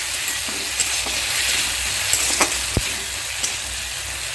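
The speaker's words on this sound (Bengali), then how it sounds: "একটা মিডিয়াম সাইজের টমেটোকে পেস্ট করে নিয়েছি, দিয়ে দিলাম, ভালো করে নেড়ে নিচ্ছি।" A medium tomato, ground to a paste, fries in a pan for vegetarian Bengali aloo dum and is stirred steadily: a close, continuous sizzle broken by a few sharp scraping ticks of the spoon.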